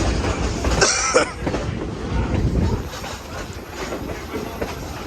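Train cars roll past at close range, including flat cars and Southern Railway excursion cars, a steady rumbling clatter of wheels on rail with a brief higher squeal early on.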